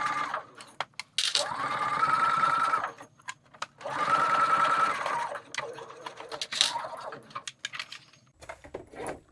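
A sewing machine stitches a pouch lining in two steady, close bursts of whirring, separated by pauses with small handling clicks and taps.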